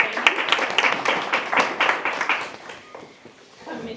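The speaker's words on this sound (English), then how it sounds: "Round of applause for Mr. Chaney." An audience applauds a panelist introduced at a public equity and bonding forum, a dense patter of clapping lasting a couple of seconds before fading into room murmur.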